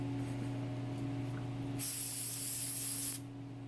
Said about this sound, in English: A little bit of brake cleaner.